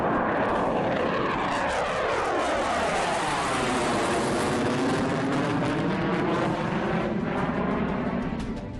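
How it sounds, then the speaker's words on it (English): Fighter plane engines roar loudly overhead in the airspace over Ladakh, a sweeping jet rumble whose pitch bends as the aircraft passes, filling the whole stretch without speech. "The roar of fighter plane engines belying the tense calm in the forward areas."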